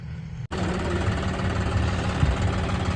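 A farm tractor engine runs steadily in first gear, a loud, continuous low rumble with a knocking vibration after an abrupt start, heard close up and alone.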